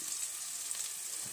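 Tadka tempering for sambar sizzling steadily in hot oil, a continuous bright crackle with no talk.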